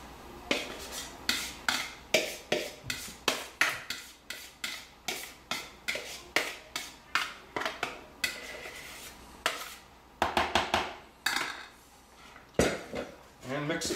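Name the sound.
mixing liquid and dry energy bar ingredients in a bowl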